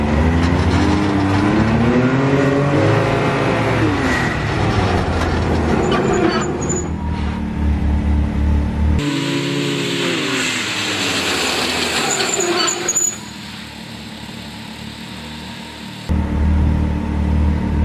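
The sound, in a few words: car braking during brake pad test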